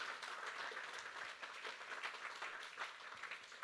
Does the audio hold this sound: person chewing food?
no